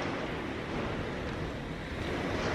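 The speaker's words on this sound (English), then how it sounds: "we're just gonna let it be really windy and rainy for now" Steady, loud rushing wind roars without a break, with broadband wash that fits heavy rain blowing against the microphone.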